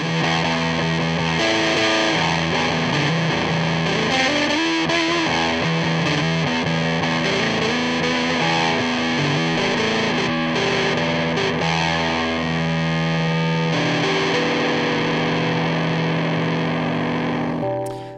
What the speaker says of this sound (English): This current sound you're hearing is the volume on Acapulco Gold at about 3 o'clock